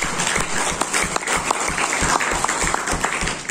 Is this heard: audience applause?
yes